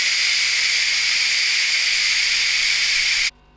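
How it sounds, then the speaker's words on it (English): Steam hissing hard from a Bennett Read Super Chef 6 pressure cooker release valve, a loud, continuous broadband hiss held at constant strength for about three seconds before cutting off abruptly. "So now it will release the steam and we'll just wait for it to finish."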